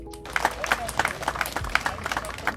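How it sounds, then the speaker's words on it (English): Brief burst of crowd applause played as a sound effect during a makeup routine, with irregular sharp claps over a steady wash. "Can I get a random applause?"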